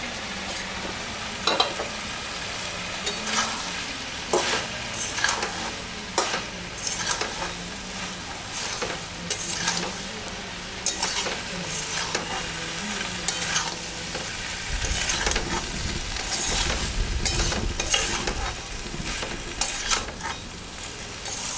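Fish and taro stolon curry sizzles and fries in a pan, with frequent stirring scrapes and clinks over a continuous hiss that grows fuller toward the end.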